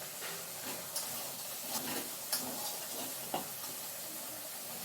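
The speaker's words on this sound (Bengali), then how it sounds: "মশলাটা কষাচ্ছি, মাছের ঝাল করবো পাবদা মাছের" Spice paste frying in a pan for a Bengali pabda fish curry, a steady close sizzle and hiss with a few soft stirring scrapes, no talking.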